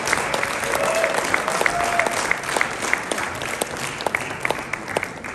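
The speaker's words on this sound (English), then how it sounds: "I'm going to ask you to be applauding as I walk to the seat" Applause from an audience at a mining and minerals convention, a steady dense wash of clapping with a few louder claps standing out, sustained throughout.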